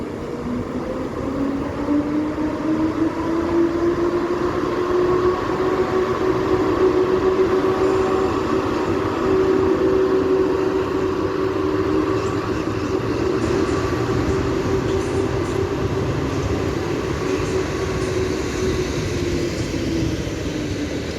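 A PESA Elf electric multiple unit train pulls away from a platform, its traction motors whining in a long rising and falling tone over steady rumbling wheels, loud and close throughout.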